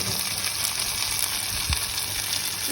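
Turmeric and chilli powder sizzle and fry in a pan, a constant close hiss with faint stirring scrapes and no talking.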